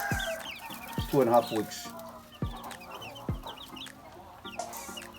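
Young native chickens in a brooder cluck and cheep at close range in a busy, overlapping chorus, with a person briefly speaking among them.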